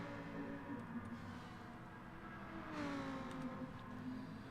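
A Lamborghini engine in a racing video game, a faint steady whirring drone that climbs in pitch as it revs, with a brief swell partway through, heard alone.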